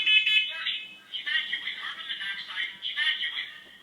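An interconnected smoke and carbon monoxide alarm sounds from another floor of a house, a steady high electronic tone that pulses in a repeating pattern at moderate distance, with no talk.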